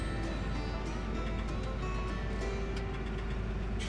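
Tractor engine drones steadily at a low, even pitch while plowing in Farming Simulator 17 on the Upper Mississippi River Valley map, a continuous mechanical rumble with no pauses.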